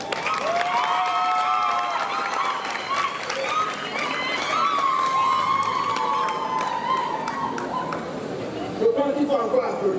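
An audience applauds and cheers at a school results announcement for a bilingual college, with steady clapping and shouting voices sustained throughout.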